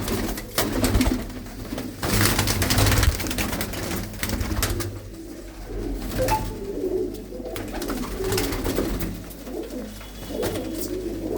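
Blue-footed pigeons coo repeatedly in low, throaty rolls, close and fairly loud, overlapping through the stretch with light rustling and a steady background murmur.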